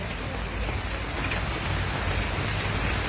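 Heavy rain pouring down outdoors on the way to a market, a dense, even hiss of falling drops that stays steady and close throughout.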